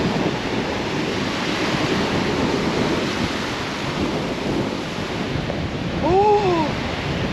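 Strong wind gusting across the beach at Tumby Bay, a loud continuous roar buffeting the microphone along with surf, briefly joined near the end by a short warbling bird call.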